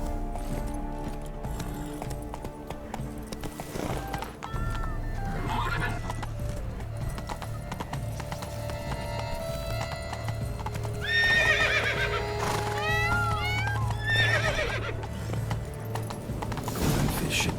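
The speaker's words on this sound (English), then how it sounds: "They're off on horseback." Horses in The Witcher 3 video game gallop with steady clip-clopping hooves while neighing and whinnying calls rise above them, near and sustained with game ambience underneath.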